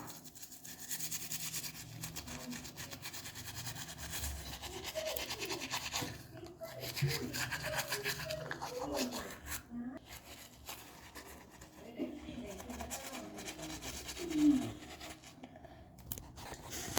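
Toothbrush scrubbing Colgate paste with a little water, a steady close-up scratchy rubbing that runs throughout, with a few brief pauses and faint background voices.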